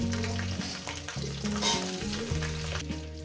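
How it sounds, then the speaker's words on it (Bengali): Eggplant fries in hot oil in a pan with a steady, close sizzle, while a utensil stirs and scrapes through it and a faint tonal hum runs underneath. "বেগুনটাকে দিয়ে মিনিট তিনেক চার ধরে আমি বেগুনটাকে সুন্দর করে ভেজে নেব"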